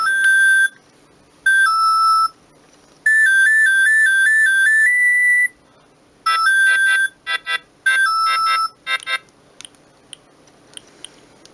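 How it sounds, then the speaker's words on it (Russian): Siemens S65 mobile phone plays a bright, beeping polyphonic ringtone melody, loud and close, in several short phrases separated by pauses, ending in faint scattered tones. "я покажу все рингтоны, которые тут есть"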